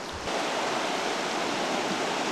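A river runs steadily outside Olympic National Park, a broad, even rushing of water with no pauses, loud and close throughout, apart from a brief quieter moment at the very start.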